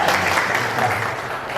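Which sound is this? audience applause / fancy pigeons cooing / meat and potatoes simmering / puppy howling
audience applause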